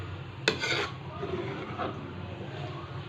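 Ube halaya being stirred in a pan, a brief sharp scrape near the start and then soft, continuous mixing at low level with faint background noise.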